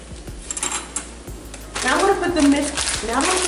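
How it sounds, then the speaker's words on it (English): Metal utensils clatter and clink against dishes in a couple of quick drops, followed by louder rustling and handling noise nearby. "You're dropping your utensils."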